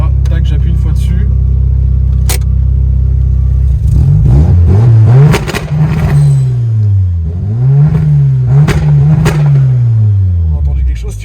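Heavily modified 450 hp Volkswagen Golf 2 engine revving hard on full boost, a loud close rumble climbing and falling in repeated throttle blips, with turbo whoosh and clatter and people talking over it.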